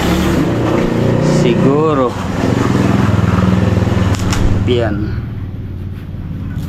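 A Mazda RF diesel car engine runs with a steady, loud mechanical hum and rumble, close by, while people talk over it; the engine note eases near the end.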